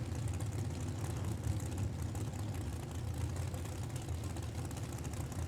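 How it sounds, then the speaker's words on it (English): Top Sportsman drag racing cars at an NHRA drag strip: a steady, low, rumbling engine idle, fairly loud but somewhat distant, holding one level without revving. "Let's roll them top sportsman cars"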